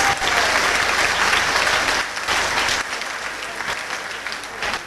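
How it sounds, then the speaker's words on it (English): A large pub crowd at a singing-pubs contest claps loudly and continuously, rapturous applause with a little crowd murmur underneath, easing slightly toward the end. "give them a big rapturous round of applause"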